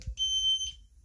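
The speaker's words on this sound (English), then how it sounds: "This is on code 3. The low frequency sounder that's playing." A fire alarm's low frequency sounder on code 3 gives a short, high electronic beep pulse, heard faintly and alone in a quiet room.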